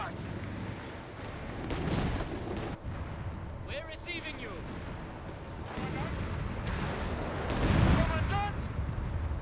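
Gunfire and artillery from Company of Heroes 3 rumble through a battle, with heavy booming blasts and scattered rifle shots near and far, along with a short voice line from the game.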